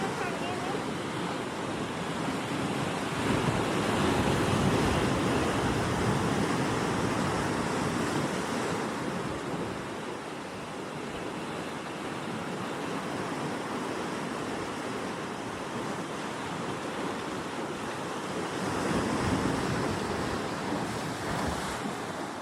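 Wind and sea waves on Tap Mun Island, Hong Kong: steady gusty wind buffeting the microphone over continuous crashing surf, swelling louder in a couple of broad surges, with no clear talk.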